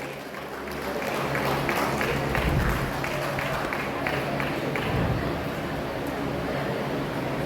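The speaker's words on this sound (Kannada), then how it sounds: "ಪ್ಲೀಸ್ ಎಲ್ಲರೂ ಜೋರು ಚಪ್ಪಾಳೆಯೊಂದಿಗೆ ಆ ವಿಶೇಷ ವ್ಯಕ್ತಿನ ಆಹ್ವಾನಿಸಿ" Sustained crowd applause from an audience welcoming a special guest at a civic workers' day event, steady and fairly dense throughout, with faint voices mixed in.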